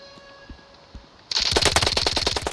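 Rapid automatic gunfire erupts in a video game after a quieter stretch of faint isolated shots, a dense, loud, sustained burst of repeated shots that continues to the end with no talk.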